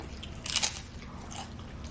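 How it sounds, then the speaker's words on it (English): Crunchy taco shells from a Chipotle burrito bowl bitten up close, one sharp crisp crunch followed by a softer second crackle over quiet background. "And these shells is like crunchy like potato chips."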